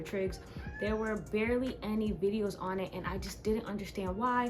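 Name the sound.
cat meowing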